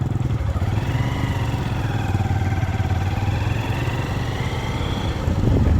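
Motorcycle engine running steadily while riding in the Philippines on the way to Cavite, a continuous mid-pitched drone with clattering rhythm, close and loud throughout with no talk.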